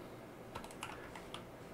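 Quick keystrokes on a computer keyboard while entering a Linux terminal command during an Arch Linux installation, a few sharp clicks in an irregular burst over a steady low background hum, close and alone.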